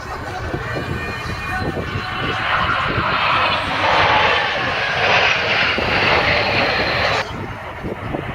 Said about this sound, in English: aircraft on the outer edges of the formation must use maximum thrust in order to maintain their legs smooth